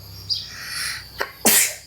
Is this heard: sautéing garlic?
no